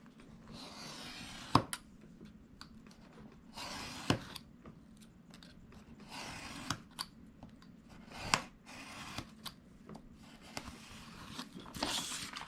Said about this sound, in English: So I'll just trim, and I'm going to trim about 1/8 of an inch.